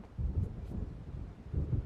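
Low rumbling thunder of an approaching storm in the Alan Wake video game, a short deep roll heard alone at a distance with wind-like noise.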